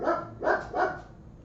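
Dogs bark at someone near the house, three loud close barks in quick succession, evenly spaced, with nothing else heard.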